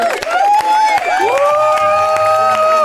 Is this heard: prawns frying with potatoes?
no